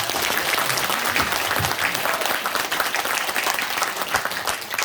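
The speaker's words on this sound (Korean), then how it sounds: "우리 윤석열 대통령 응원 박수 한번 쳐드립니다." Loud, sustained applause from a crowd at a launch rally, dense clapping that continues evenly throughout without any talking.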